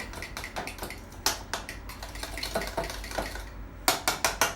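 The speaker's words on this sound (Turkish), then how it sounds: "Önce bir çatal yardımıyla bir azıcık karıştırayım" A fork scrapes and clinks against a bowl while stirring a packet of whipped cream powder into cold milk, a quick run of close, repeated metallic taps and scrapes with a burst of faster strokes at the end, with no talking.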